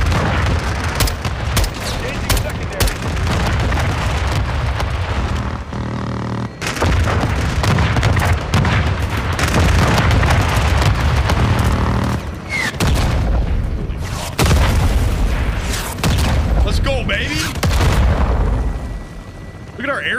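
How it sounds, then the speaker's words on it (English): Grenade explosions and heavy gunfire in the Call of Duty Modern Warfare II campaign, booming repeatedly in loud bursts with brief lulls, mixed with game dialogue and a player talking. "I'm throwing more grenades."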